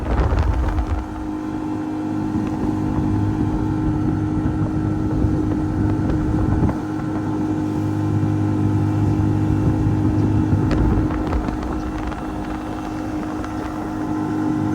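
A J16 Carolina Skiff motorboat with an upgraded transom planes at about 24 miles an hour, its outboard engine giving a steady, loud drone with water rush and wind buffeting the microphone throughout.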